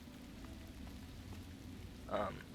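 Steady rain hisses in the modded video game Fallout Tale of Four Wastelands, a continuous, even wash with a brief brighter patter near the end.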